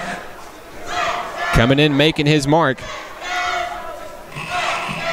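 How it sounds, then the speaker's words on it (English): The Nighthawk cheer team chants and shouts in unison at a college basketball game between National Park College and Ecclesia College, a lively crowd roar beneath a play-by-play announcer's voice, with a strong shouted cheer in the middle. "You can hear the Nighthawk cheer team in the background"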